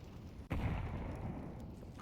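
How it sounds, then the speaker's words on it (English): A grenade goes off in a Counter-Strike 2 match: a single sharp, loud burst about midway, followed by a sustained rumbling tail and low background noise. "Nice nade on the touchdown here."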